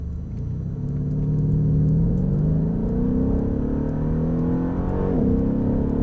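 A Mercedes-Benz E63 AMG accelerates hard on a test run, its engine rumbling loudly and climbing steadily in pitch through the gears, heard from inside the car with no voices.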